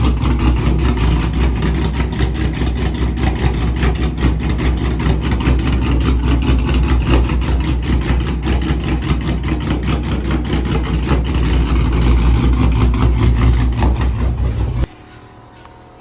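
A supercharged Hemi V8 idles roughly with its throttle body opening only about 30%, a loud, steady low rumble with a rhythmic lopey chop that cuts off abruptly near the end.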